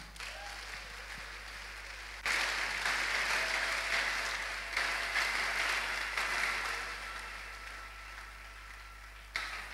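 A church congregation at a Sunday worship service bursts into loud, sustained applause to acclaim the Lord, clapping steadily for about seven seconds after a quieter opening before stopping abruptly.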